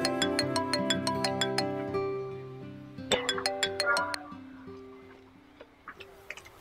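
A mobile phone plays a melodic ringtone of bright, repeated chiming notes over held tones, pausing and then starting a second phrase before fading out, fairly close and alone.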